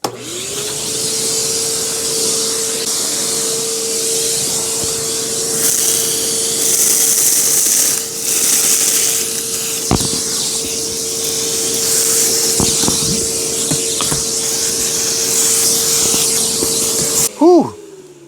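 A Dewalt 9 gallon shop vacuum runs loud and close with a steady motor whine and airy rush, its pitch easing down as it shuts off near the end.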